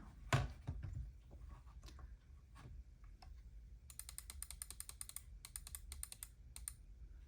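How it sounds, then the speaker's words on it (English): Sharp, crisp clicks from a Logitech M720 mouse and MX Mechanical Mini keyboard, a few isolated at first, then quick clustered clicking, close up in a quiet room. "And then mouse clicking sound."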